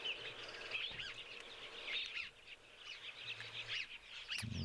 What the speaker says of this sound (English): they've got some doves just landing.